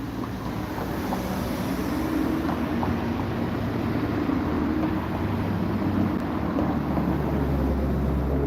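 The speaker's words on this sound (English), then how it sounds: "Yeah, we got wind now." Steady, loud wind roars and buffets against the microphone throughout a onewheel ride in El Paso, Texas, with a constant low rumble and no break.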